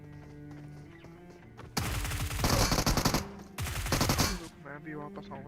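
Dense bursts of automatic gunfire in the mobile battle royale game BGMI, two long loud volleys of rapid shots over steady game background sound, with a voice heard faintly in between.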